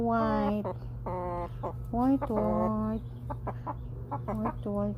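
White chickens cluck and squawk up close in a series of short, nasal, pitched calls, some rising and drawn out, over a steady low background hum.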